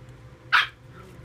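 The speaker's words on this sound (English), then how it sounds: "The dog's getting aggravated." A single short bark from an agitated dog indoors, moderately close, sharp and brief over a low steady hum.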